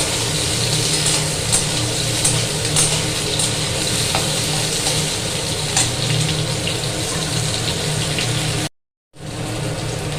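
Okra sizzles steadily in hot oil in a pan while being stirred, a continuous loud crackling hiss with faint scrapes, cut by a short silent gap near the end.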